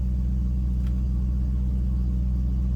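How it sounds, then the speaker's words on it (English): A BMW 8-Series engine idles steadily at about 800 RPM, a low, even rumble with a constant hum that holds unchanged for the whole stretch, close and alone with no talk. "800 RPM, and it will stay like that for a little while."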